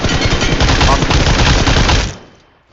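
Spray fire from an automatic rifle in PUBG Mobile rattles as a loud, dense burst of rapid shots lasting about two seconds, then cuts off and fades into a short echoing tail.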